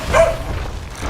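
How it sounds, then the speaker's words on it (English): A dog barks, a short loud burst near the start, then tails off into low background noise. "That's not English, that's barking."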